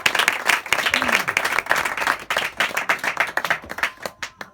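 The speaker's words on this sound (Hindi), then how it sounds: "मेरे अजीजों, हम अपने खुदा के लिए जोरदार ताली बजाएं।" A church congregation claps loudly and vigorously, with fast, uneven hand claps close by, mixed with a few voices and thinning toward the end.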